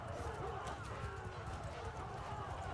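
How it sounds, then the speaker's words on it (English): Horse galloping in the video game Mount and Blade 2 Bannerlord: a steady, fast clip-clop of hooves under a dense, continuous layer of game ambience and battle noise. "I'm gonna mount up on this horse and"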